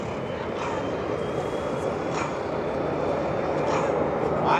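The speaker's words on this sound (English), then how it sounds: "keep an eye on that beautiful T-33 as it rounds over show light" A T-33 Shooting Star jet rounding over show line at an air show, a steady, loud broadband engine roar filling the whole clip as a public-address announcer talks over it.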